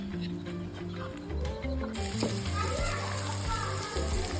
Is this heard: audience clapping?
no